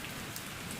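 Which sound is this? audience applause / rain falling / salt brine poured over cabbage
rain falling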